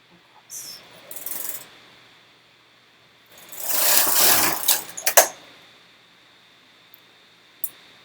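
A knitting machine carriage is pushed across one row, giving a sustained mechanical whirring sweep with rattling clicks at the end of the pass and a few short knocks before and after it, close and fairly loud.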